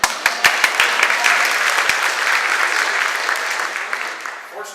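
An audience at a concert bursts into warm, sustained applause, dense steady clapping that fades toward the end, with a voice briefly heard.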